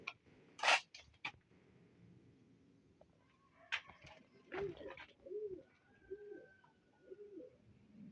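A tumbler pigeon in its coop gives a run of soft, repeated coos, fairly quiet and close, after some faint rustling and sharp clicks at the start.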